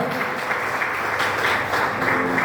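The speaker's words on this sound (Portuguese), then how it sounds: "Aplauda o Senhor nesta noite." Church congregation applauding during an evening worship service, a dense, continuous burst of clapping from many hands filling the room, with no speech over it.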